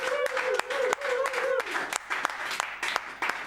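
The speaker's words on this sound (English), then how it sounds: "big cheer, Tim Scott." A studio audience cheers and applauds, with dense clapping and sharp individual claps punctuating a sustained whoop early on.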